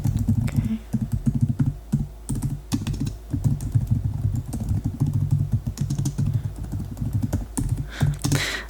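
Steady typing on a computer keyboard in a soft-spoken shoe salesman roleplay, close and crisp clicking keys in quick irregular bursts with brief pauses.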